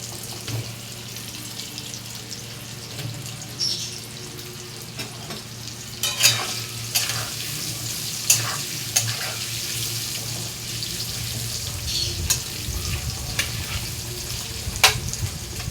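Chopped potatoes fry in a pan with a constant soft sizzle, broken by occasional sharp clinks and scrapes of stirring, close by and without speech.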